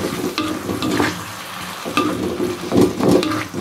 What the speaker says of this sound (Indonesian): Kita aduk lagi sampai merata ya.